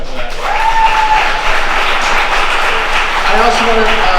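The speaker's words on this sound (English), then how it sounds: "So let's put hands together for that." An audience applauds throughout a live show, a dense, steady wash of clapping from many hands, with voices faintly mixed in beneath.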